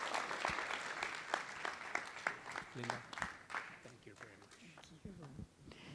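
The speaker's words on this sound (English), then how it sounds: "they all deserve a big round of applause" A Laguna Woods Democratic Club audience applauds the candidates with a quiet, scattered burst of clapping that thins out as a voice begins speaking over it.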